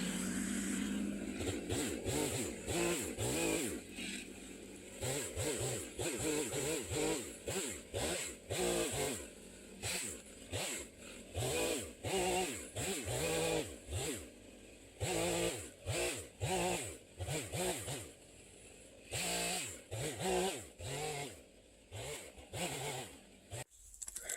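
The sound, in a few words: chainsaw limbing a storm-felled tree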